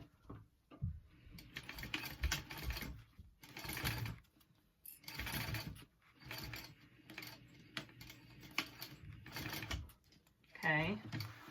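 A sewing machine bastes a handbag piece in a series of rapid stitching bursts with pauses between, close by, with someone speaking briefly among the runs.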